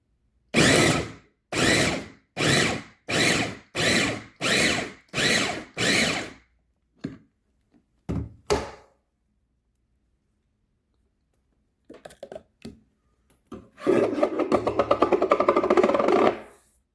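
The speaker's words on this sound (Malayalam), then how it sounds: "ഈ ഒരു രീതിയിൽ തന്നെ ബീട്രൂട്ടും ഇതിനകത്ത് കട്ട് ചെയ്തിട്ടിട്ടുണ്ട് നമുക്കിത് ചോപ്പ് ചെയ്തെടുക്കാം" A chopper cuts beetroot in seven quick, evenly spaced bursts of loud whirring close by. A few sparse clicks and short taps follow, then a longer rattling burst near the end.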